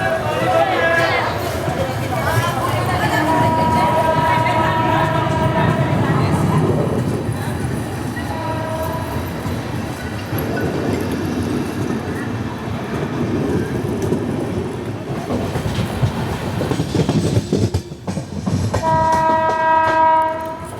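The Hazur Sahib Nanded Hadapsar Express pulls out of Parbhani Junction with loud, steady rumbling and wheel clatter close by, and several sustained horn blasts at the start, middle and end.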